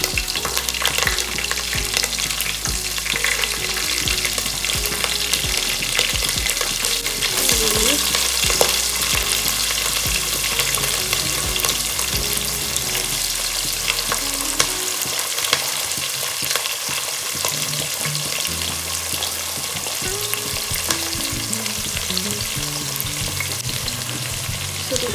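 Green chillies frying in hot oil for Muslim-style chicken biryani, a steady dense sizzle with occasional stirring scrapes running throughout, close and fairly loud, no talking.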